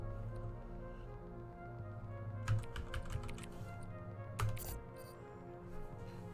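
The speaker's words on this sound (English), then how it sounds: "You can run a program by typing its name" Quick, light keyboard taps sound as commands are typed into the hacking video game Midnight Protocol. The short irregular bursts of keystrokes are faint and sit over a soft, steady background tone.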